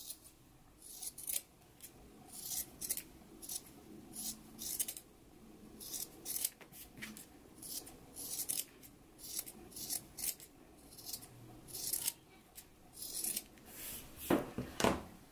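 Scissors snip repeatedly through sewn fabric pocket flaps, a quick run of short, crisp cuts close by with small pauses between them, the blades sliding and clicking.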